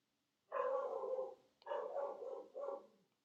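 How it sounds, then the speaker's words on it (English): A dog barks from another room, three drawn-out, slightly muffled barks with short gaps, heard alone in a kitchen. "Must be someone walking their dog in the other room"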